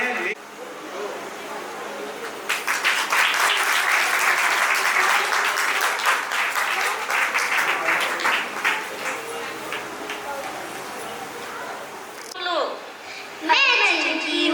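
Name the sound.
loud audience applause at Jain temple program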